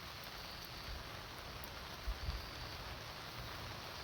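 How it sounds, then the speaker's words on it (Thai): Heavy rain falls on a mountain rice field during the harvest, making a steady, dense hiss without a break, with a faint low thud partway through. "ฝนตกอีกแล้วทุกคนเลย"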